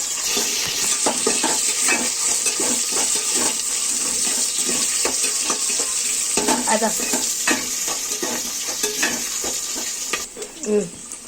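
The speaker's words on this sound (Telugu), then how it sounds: "ఆనియన్ వేసి గోల్డెన్ బ్రౌన్ కలర్ వచ్చే వరకు వేయించుకోవాలి." Onions fry in a pan until golden brown for a Nellore fish curry, after mustard seeds have popped. A steady, close sizzle runs throughout with repeated stirring scrapes and clatter, and no one speaks.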